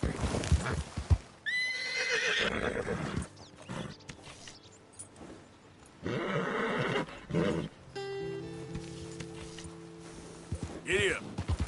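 A horse in Red Dead Redemption 2 neighs and whinnies loudly several times while its hooves clip-clop at a gallop, with other game sounds and voices mixed in.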